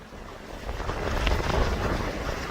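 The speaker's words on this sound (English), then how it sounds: "Those are about 4-foot swells beating up against my seawall." Roughly 4-foot ocean swells beat against a residential seawall, a loud broad wash of surging water with wind noise, building and holding steady over a couple of seconds.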